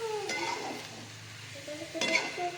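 A spoon stirs spinach and soaked moong dal in a pan with two distinct scraping strokes, near the start and again near the end, over a soft sizzle with quiet clinks.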